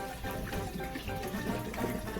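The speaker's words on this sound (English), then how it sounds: "Some water again, and rinse one more time" Water running steadily from a tap while white beans are rinsed in a kitchen, a continuous close splashing rush with no pauses.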